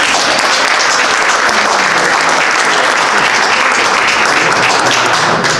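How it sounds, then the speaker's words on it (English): An audience at a township board meeting gives a sustained, loud round of applause, a thick continuous patter of many hands clapping close by without a break. "So I just want to give you a round of applause."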